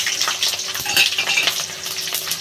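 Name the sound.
chilli and garlic frying in pan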